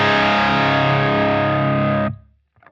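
Distorted electric guitar through a Revv Generator 120 MKII amplifier with the bright switch engaged, a loud sustained chord ringing for about two seconds before being cut off, followed by a faint brief noise.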